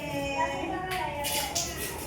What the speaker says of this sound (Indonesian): Tepuk tangan. Tepuk tangannya mana?